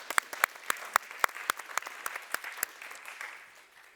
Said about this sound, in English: A round of applause for our panellists.